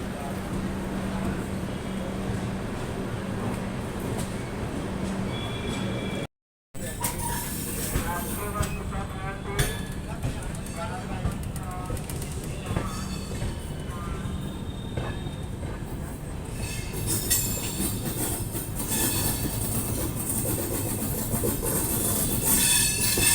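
A Garib Rath Express train runs toward Banaras Junction with a loud, steady rumble of wheels on rails, rhythmic clickety-clack and occasional wheel squeal. The sound cuts out briefly early on and swells louder toward the end.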